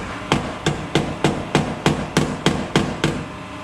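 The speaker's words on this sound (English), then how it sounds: "I'm going to knock it down with a hammer." A hammer pounds down a protruding spot of rusted car body metal in a garage, about ten sharp metallic blows struck at a steady, even pace, close and loud, with no talk.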